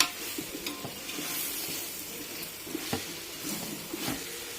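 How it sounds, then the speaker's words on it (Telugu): Gongura (sorrel) leaves fry in oil in a pot with a continuous, close sizzling hiss, punctuated every second or so by faint stirring knocks and scrapes. "మనం ఇందాక ఏరుకున్న గోంగూరని ఆయిల్లో ఫ్రై చేయాలి"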